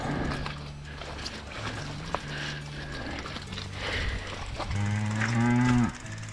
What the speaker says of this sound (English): Hello, cow.